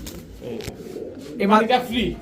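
Pigeons kept for sale, including Pakistani Teddy, Budapest, racer and Giribaz breeds, give soft, low, warbling coos close by against a busy, noisy background.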